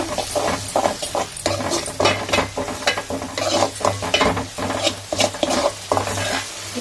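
Ingredients for a shark fish curry are sautéed in a pan until their raw smell fades, giving steady sizzling with repeated scraping and stirring strokes, close and fairly loud, with no voices.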